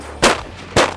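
Two sharp shotgun blasts roughly half a second apart during a waterfowl duck hunt on water near ice, each a loud, close crack with a short decaying tail.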